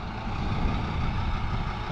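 A Hyundai haul truck rolls in, its heavy diesel engine giving a loud, steady low rumble close by, with no voices.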